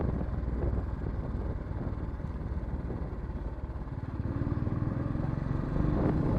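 A Bullet motorcycle rides along city roads, its engine giving a steady, low, rapid thumping pulse with wind rush, close and continuous throughout.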